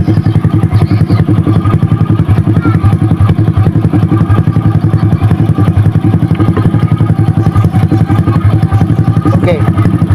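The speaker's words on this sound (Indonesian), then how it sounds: "ini aki sudah terlepas dan motor tetap hidup." Honda Supra X 125 motorcycle engine idling with its battery removed, a loud, steady, rapid putter with a faint mechanical clatter, running unchanged throughout at close range.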